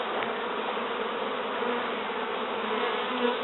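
Dense, steady buzzing of many bees close by as they are moved from a sofa to a hive, a continuous droning hum with no pauses.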